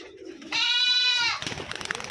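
Rajshahi Giribaz high-flying pigeons, among them deep red Koka birds, fill a tin-roofed loft; one bright drawn-out call rings out nearby, framed by softer cooing and shuffling.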